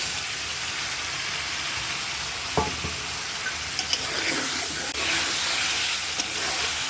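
Hilsa fish with spices sizzles steadily in a hot pan while a spoon scrapes and stirs in a few brief clatters, close and fairly loud.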